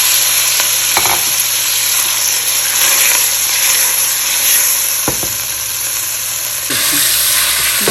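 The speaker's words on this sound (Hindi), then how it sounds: "इसमें लहसुन अदरक का पेस्ट डाल दिया और साथ ही इसमें ये गई हमारी चिकन" Chicken pieces sizzling in a hot pan with garlic-ginger paste, a steady, loud frying hiss running throughout with a few brief clatters from stirring, no voices.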